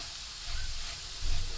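Curry leaves dropped into a hot pan for an Onam sadya dish give a steady, close hiss and sizzle that swells briefly toward the end, with no talking.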